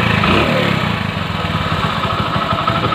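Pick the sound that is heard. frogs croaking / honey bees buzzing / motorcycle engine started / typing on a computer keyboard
motorcycle engine started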